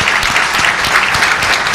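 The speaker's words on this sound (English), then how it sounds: "Can we give another round of applause for our candidates," Loud, dense applause fills a room after a 2013 state senate candidate debate, a steady wash of many hands clapping close by without a break.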